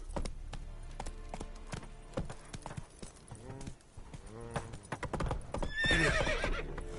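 In The Witcher 3, a horse's hooves clip-clop at speed in quick, steady beats, then the horse lets out a loud neigh near the end, with faint game voices in the background.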